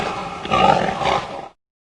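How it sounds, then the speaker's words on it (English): A domestic pig gives one short, gruff grunt lasting about a second and a half, close and fairly loud, with no other sounds around it. "Pig."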